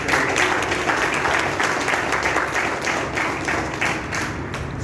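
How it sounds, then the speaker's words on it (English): Audience at a US Army event applauds loudly and steadily, dense clapping filling the room throughout without pause. "let's give a round of applause for that"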